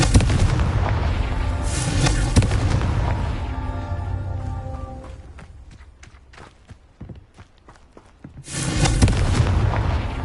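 Confringo fire spell blasts from the Hogwarts Legacy video game erupt as heavy booms and bursts, with a loud opening, a quieter stretch of scattered sharp impacts, then another rumbling explosion.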